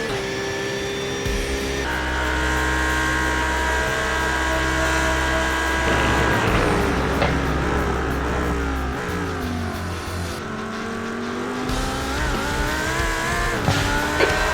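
A Lamborghini Huracan GT3 race car in iRacing closes in and passes, its engine droning and rising in pitch over the steady hum of the player's Porsche 992 GT3, with shifting revs and a faint tire squeal, no voices.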